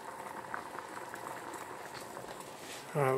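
Apple cider vinegar bubbling steadily in a pot on a stove, a soft continuous simmer with small pops throughout. A brief louder tonal sound comes in at the very end.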